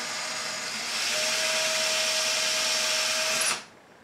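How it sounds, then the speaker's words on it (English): A power drill bores slowly into a wall for a coat rack mount, a steady close whirring whine holding for about three and a half seconds before it stops abruptly. "Put your drill on that mark that you have and drill very little"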